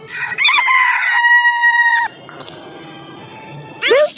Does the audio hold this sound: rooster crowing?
yes